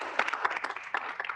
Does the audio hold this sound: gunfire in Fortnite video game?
no